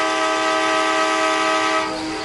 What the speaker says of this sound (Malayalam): നമുക്ക് ഹോൺ അടിക്കാൻ പറ്റും ഗൈസ്.